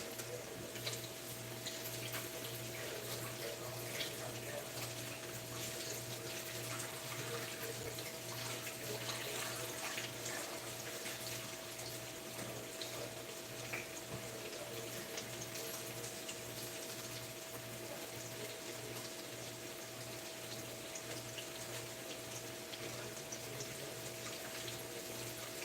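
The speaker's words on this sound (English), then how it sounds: "I'm gonna wash my hands" Tap water runs steadily while hands are washed in a home kitchen sink during cooking, a continuous faint hiss and splash lasting the whole stretch, with a low mechanical hum underneath and no talk.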